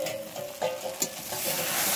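Spices fry in hot oil in a pan with a steady close sizzle, broken by a few brief clatters of stirring.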